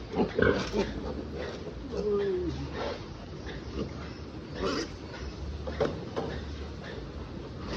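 Piglets on a farm squeal and grunt during hog cholera vaccination. The squeals come in short bursts under steady talk about the dose, with handling noise in between.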